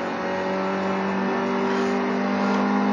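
Race car engine in a racing video game at Oulton Park, a loud, steady close-up drone that climbs slightly in pitch as the car accelerates, with no voices.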